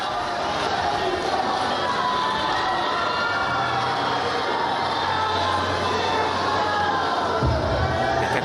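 Dense crowd cheering and shouting greetings at a public event for the Argentine president, a steady roar of many voices throughout with a brief swell near the end.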